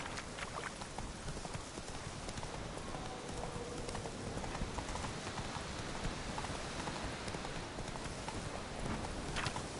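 Roach, a horse in The Witcher 3, gallops in a steady fast hoofbeat rhythm that stays loud and constant throughout, mixed with a hiss like rain.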